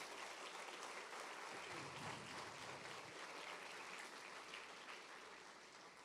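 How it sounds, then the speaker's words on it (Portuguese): A church congregation claps together in sustained, dense applause, a broad even wash of hand claps that fades slightly toward the end. "dá ao Senhor uma linda salva de palmas"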